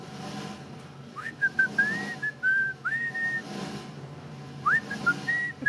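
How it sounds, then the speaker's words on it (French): A person whistles a wavering, sliding melody in several rising and falling phrases, moderately close, over a low background hum. "Mais tu siffles très bien."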